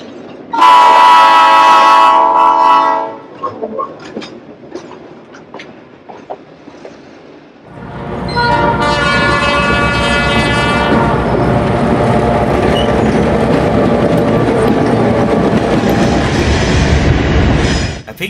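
A piggyback freight train rolls past close by and loud on the Shasta Route, wheels clacking and squealing steadily, after a horn blast at the start.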